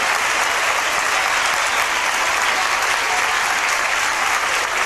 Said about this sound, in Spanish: Un aplauso para Elena, dama de honor de estas fiestas